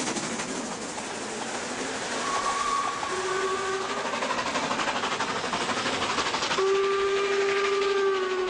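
A bulky Harz narrow-gauge steam locomotive hauls its train with a steady chuffing rumble, sounding its steam whistle in two sustained blasts, the second louder and longer.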